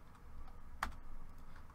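A single crisp computer keyboard keypress while drafting in AutoCAD 2020, a lone close click in a quiet room.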